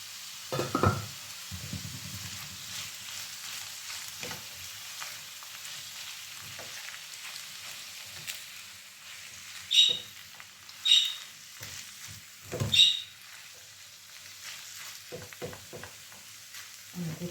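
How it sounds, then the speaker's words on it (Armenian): Salted food frying in a covered pan, a faint, steady low sizzle with a few brief scraping and clattering bursts, no voices. "Թողնենք մի լավ տապակվի"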